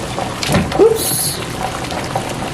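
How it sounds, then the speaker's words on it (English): Baby bottles are lifted from a pot of boiling water, with bubbling, splashing and dripping water, a brief clink and a short burst of pouring, all close by. "So I'll gently take the bottles out and put on my drying rack."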